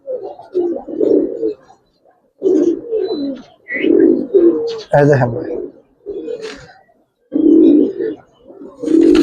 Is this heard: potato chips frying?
no